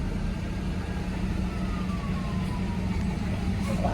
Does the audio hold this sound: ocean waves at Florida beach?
no